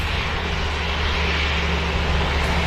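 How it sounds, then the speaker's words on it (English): An EasyJet airliner arriving at Manchester Airport from Pisa gives a steady, broad engine roar that stays loud and constant through the short stretch, with no voices over it. "So EasyJet's just touched down from Pisa."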